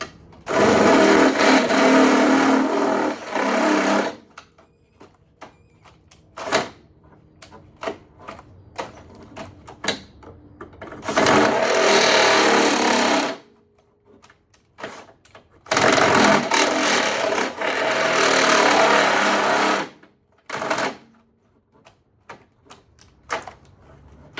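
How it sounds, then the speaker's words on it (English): A unicorn step bit drills a hole in a panel of a 1955 Mercedes 300SL Gullwing replica built on an R170 SLK 32 AMG, heard as several loud drill bursts of a few seconds each, separated by quiet pauses and small clicks. "So I'm gonna take my unicorn bit. Let's get a little closer. Now I'm just gonna put a hole right here."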